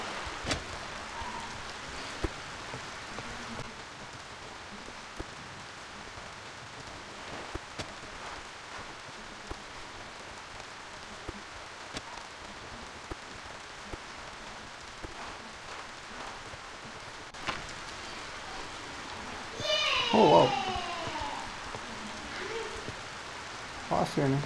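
Rain falls in the survival crafting game Survival & Craft, a soft steady patter with occasional sharp clicks, and a brief louder burst of sound near the end.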